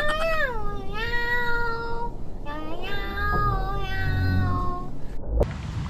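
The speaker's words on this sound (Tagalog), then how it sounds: "Meow, meow, meow." A cat gives a series of drawn-out, falling meows, about four calls in close succession, fairly near over a low background rumble, ending with a short thud.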